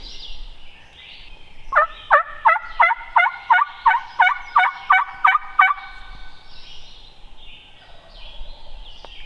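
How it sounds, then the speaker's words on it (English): A wild turkey tom gobbles in the Western New York woods in spring, a rapid run of about a dozen sharp, loud gobbling notes from fairly close, heard alone with no talk. "now the turkey's got to be gobbling right down where I was"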